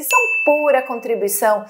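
A bright notification bell dings once near the start and its clear tone rings on steadily beneath someone speaking Portuguese, ending with a soft chime.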